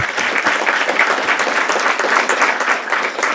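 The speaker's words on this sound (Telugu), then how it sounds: "గట్టిగా చప్పట్లు కొట్టండి మీ అందరికీ" A seated audience at a motivational talk breaks into loud, sustained applause, dense overlapping clapping that stays close and even from start to finish, with no speech over it.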